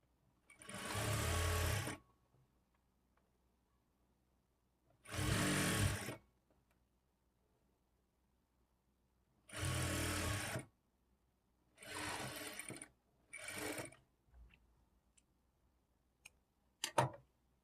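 A sewing machine stitches thread piping onto cloth in five separate bursts of rapid mechanical whirring, close and clear, with quiet pauses between runs and a few faint clicks near the end.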